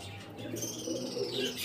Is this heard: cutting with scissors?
no